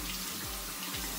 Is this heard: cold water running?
yes